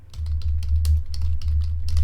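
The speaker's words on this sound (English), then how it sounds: "I'm not typing any more than I need to" Rapid keystrokes on a computer keyboard during a marathon place-naming challenge, light irregular clicks tapping away over a steady low hum.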